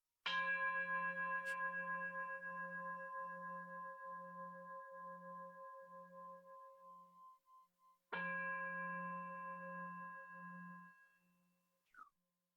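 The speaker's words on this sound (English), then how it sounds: "listening to the sound of the bell go through your body and your heart" Meditation bell struck twice during a quiet sitting, each ring bright and resonant with a long, slowly pulsing decay into silence, followed by a brief faint chirp at the end.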